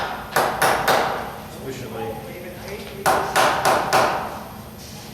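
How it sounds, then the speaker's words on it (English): Dead blow hammer tapping a workpiece down in a CNC mill vise: two bursts of three or four sharp, close taps with a lull between, while someone speaks. "I might just give it a few taps with the dead below hammer"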